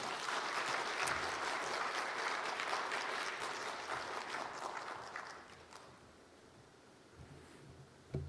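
Church audience applause welcoming a speaker at a Sunday afternoon service, dense and steady at first, gradually thinning out and fading as the clapping winds down.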